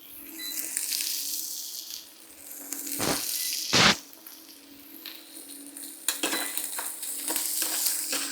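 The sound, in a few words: garlic frying in a pan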